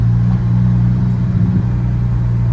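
A Ferrari Roma rolling slowly at about 30 km/h, a steady low engine rumble with a constant drone and slight fluctuations, close and alone without talk.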